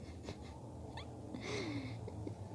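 A pet cat gives a few short, faint meows and chirps at night against a low background hum, with no talk over it.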